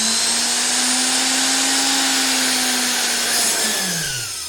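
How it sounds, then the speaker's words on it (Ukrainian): A washing machine motor, switched on with a drill trigger button, whines loud and steady as it spins at speed, then its pitch drops sharply as it winds down near the end. "Крутиться, кстати, обороти набирає дуже різко."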